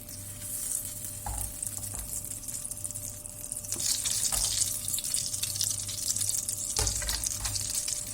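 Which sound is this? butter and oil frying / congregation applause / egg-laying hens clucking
butter and oil frying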